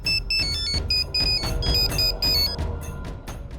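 A phone ringtone plays a bright, repeating electronic melody in short pulsing bursts over a low hum.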